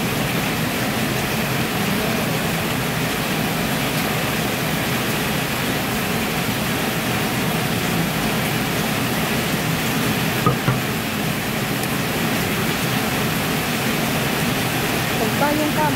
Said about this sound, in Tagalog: Uy, grabe talaga yung ulan eh.